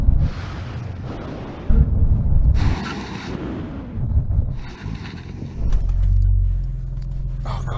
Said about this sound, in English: Brake test from 70 miles an hour.